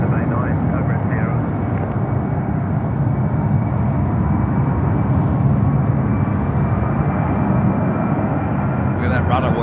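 A fixed-wing airliner at Sydney Airport at night, engines set to takeoff power, giving a steady, loud, broad roar that holds for the whole stretch, with faint talk in the background.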